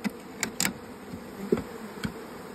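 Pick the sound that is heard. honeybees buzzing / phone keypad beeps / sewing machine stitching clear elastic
honeybees buzzing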